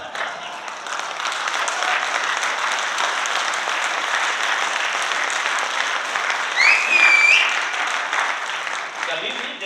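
Audience at a motivational speech event in Delhi clapping steadily and loudly for nearly ten seconds, a dense sustained roar of hands with a brief whistle or cheer partway through.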